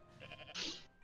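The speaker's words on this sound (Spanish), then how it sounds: "Esa cabra del demonio." A goat bleats once in the video game I Am Bread, a short, nasal, wavering cry that rises sharply partway through, heard alone and fairly close.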